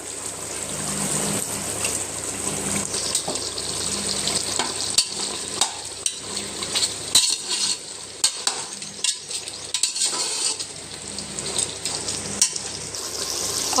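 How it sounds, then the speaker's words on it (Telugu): Chicken pieces fry in hot oil for a biryani, a dense close sizzle that runs throughout, broken by several sharp stirring clatters and spatters in the second half; nobody speaks. "ఆయిల్ పైకి వచ్చేటట్టు అయితే ఫ్రై చేసుకోవాలంట"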